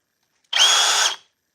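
Milwaukee M12 sub-compact cordless drill spinning up in one short, loud burst of about half a second, with a steady high motor whine that stops abruptly, heard alone.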